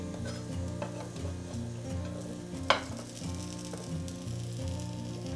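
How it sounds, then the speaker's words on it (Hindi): A besan sandwich fries in oil in a pan with a steady, gentle sizzle throughout, broken once by a short sharp clink of a utensil. "इस पर थोड़ा सा ऑयल ड्रिजल कर रही हूँ और अब इसे आराम से पकने देंगे"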